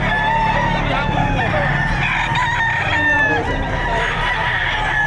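Several roosters crow over a dense backdrop of clucking chickens, with a noisy, crowded outdoor livestock auction market bustle throughout, in Padre Garcia, Batangas.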